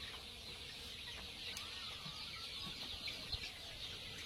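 Chickens on a local poultry farm cluck softly and intermittently over a steady outdoor hiss, faint and somewhat distant, with no voices.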